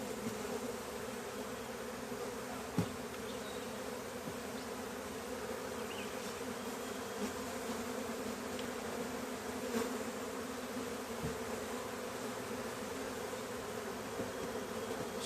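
A swarm of honey bees buzzes steadily inside a tote fitted with drawn frames, a dense continuous hum close by with a few brief knocks, and no voices.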